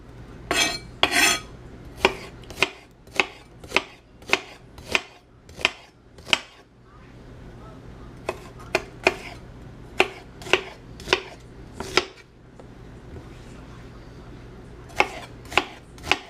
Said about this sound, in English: I'm going to cut the onions just like that